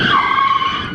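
Tires of a Mazda Miata squeal in a sustained, loud, high-pitched skid that holds steady for about a second, close by.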